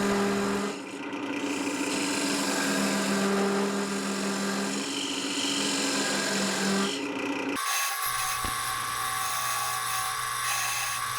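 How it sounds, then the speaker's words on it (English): A quarter-inch parting tool cuts a mortise into a spinning wooden bowl on a lathe, a steady loud whine and rasp that shifts in tone partway through, close and unbroken, with no talk. "I just used the 1/4 inch parting tool to form the mortise"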